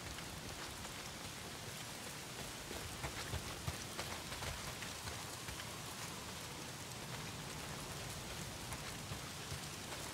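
Steady heavy rain pouring down in the video game Days Gone, a dense even hiss of drops with occasional sharper patters, continuous and fairly faint with no voices.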